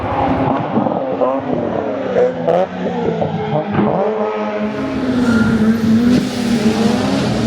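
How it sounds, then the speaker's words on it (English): Loud rotary-engine race cars snarl and rev as they pass, pitch climbing and dropping with each pass, while voices are faintly heard nearby. "So those rotaries are gonna be super loud and hopefully see some cool flames."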